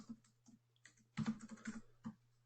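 Typing on a computer keyboard: a quiet, close series of irregular key taps and clicks, including a brief quick flurry, over a faint steady hum.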